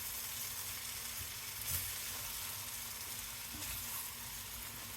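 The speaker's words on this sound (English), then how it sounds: "Stir it up quick." Pepper steak sizzles steadily in a hot pan while being stirred, a continuous close frying hiss with a few soft scraping stir sounds, no talking.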